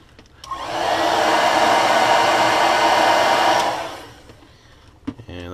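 A heat gun blows steadily for about three seconds to set paint on a pumpkinseed crankbait lure, a loud, even whooshing roar that starts abruptly and cuts off, followed by faint clicks.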